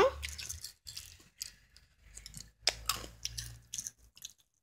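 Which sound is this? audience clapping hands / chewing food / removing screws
chewing food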